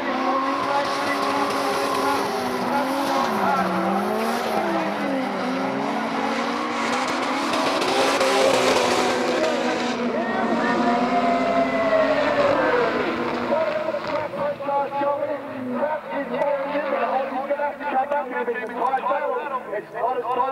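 A drift race car roars at high revs on a track, its engine note sweeping up and down with sustained tire squeal, while a commentator talks excitedly over it throughout.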